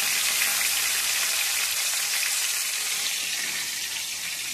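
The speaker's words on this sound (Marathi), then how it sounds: "जिरे टाकून घेतले, भरपूर मोहरी जिरे घालायचे, टेस्ट छान येते। कढीपत्त्याचे पानं घातले, होऊन द्यायचं त्याला चांगले।" Cumin, mustard seeds and curry leaves fry in hot oil for a tempering, producing a steady, bright hiss and crackle that stays close and even throughout, with no talking.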